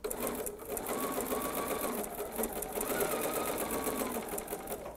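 Sewing machine stitching jelly roll fabric strips for a rug, a steady, close, continuous mechanical whir with fast rhythmic needle ticking that runs without a break.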